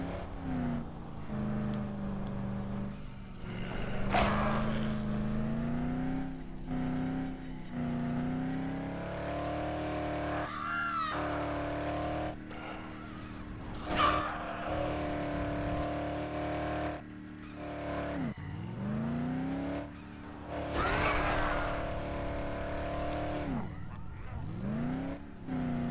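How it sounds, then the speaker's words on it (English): Car engine in the Dead Island video game, a steady droning motor with pitch rising and falling as it speeds along, running continuously and fairly loud with occasional revving swells. "Car so fast."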